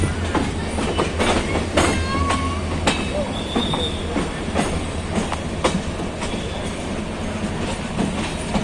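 Train at a railway station in Dhaka, Bangladesh: wheels squealing and clacking over rails with metallic screeches and rhythmic clatter, loud and close, with faint voices in the background.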